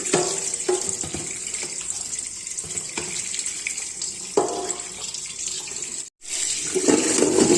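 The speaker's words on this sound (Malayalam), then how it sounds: "ഇനി നിങ്ങൾ ഇതൊന്ന് കഴുകി കാണിക്കാം." Tap water runs steadily over a freshly scrubbed kadai pan in a sink, splashing and shifting as the pan moves, with one brief break before the flow resumes.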